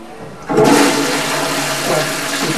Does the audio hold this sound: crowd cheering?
no